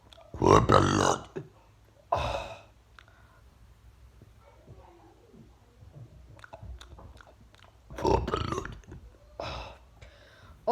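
Several close, loud burps erupt at intervals during a burping challenge, separated by softer chewing-like and breathy sounds.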